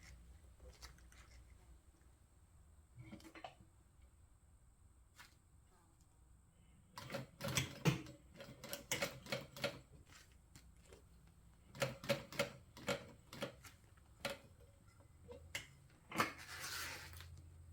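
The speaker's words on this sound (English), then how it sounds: "we're going to sew it all the way around at 1/8 of an inch" A sewing machine stitches fabric an eighth of an inch from the edge while making a notepad holder, running in short bursts of rapid mechanical clicking separated by quiet pauses, close and fairly soft.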